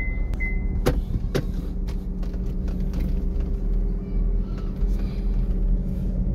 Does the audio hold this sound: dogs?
no